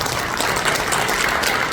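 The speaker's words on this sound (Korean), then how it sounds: "다시 한번 뜨거운 박수 한번 쳐주십시오" Sustained applause from an audience at a breakfast seminar forum, dense clapping that stays steady and loud throughout.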